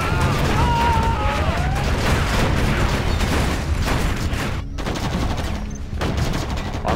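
Rocket fire in Command & Conquer Generals, a dense, loud barrage of rapid explosive bursts and whooshing launches that continues nearly throughout, with a few short gaps and brief unit voice lines mixed in.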